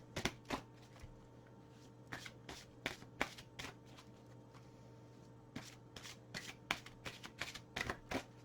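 Gaia oracle cards being shuffled by hand in a quiet room, a series of crisp riffling bursts in irregular clusters with short pauses, close and fairly soft, no talking.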